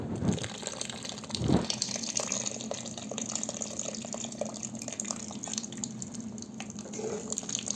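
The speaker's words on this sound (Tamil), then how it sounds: "புளி ஊற்றிக்கலாம்." Tamarind water being poured into a simmering pepper-tomato kuzhambu for manathakkali vathal kulambu, a soft steady liquid gush and trickle with a couple of louder splashes near the start, close and continuous, with no talking.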